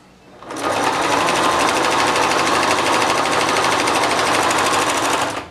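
A sewing machine runs steadily, stitching straps onto a fabric face mask, with a loud, continuous rapid whirring hum that starts abruptly and holds for several seconds before stopping.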